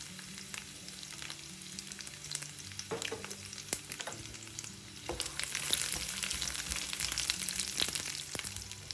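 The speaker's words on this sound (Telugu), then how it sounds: "ఇప్పుడు దీనిలో వెల్లుల్లిపాయ ముక్కలు కూడా వేసుకుందాం." Thinly sliced garlic, about ten cloves, sizzles in hot oil for garlic rice: a steady close-up fry with occasional stir clinks, growing louder and denser partway through.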